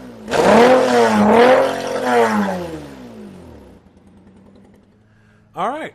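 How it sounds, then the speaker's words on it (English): A Toyota 2GR-FE V6 engine, installed in an SW20 MR2, revs loudly up close with rising and falling sweeps, then settles to a quieter, uneven idle that hints at a slight misfire, and a short rev returns at the end. "If you heard a little bit in the background that sounded like a misfire"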